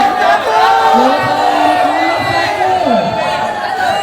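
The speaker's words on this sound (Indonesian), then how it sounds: "tepuk tangan untuk Bapak Ridwan Kamil" A loud crowd at a political rally in Jakarta, where volunteers declare support for a gubernatorial ticket, cheers and shouts continuously, with voices whooping and calling over one another up close.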